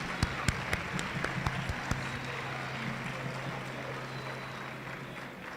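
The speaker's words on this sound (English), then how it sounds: "let's give a hand of applause for everybody in here" A room at a certificate handover ceremony applauding everybody present, with continuous clapping and several sharper individual claps near the start, fairly loud and steady, no talk over it.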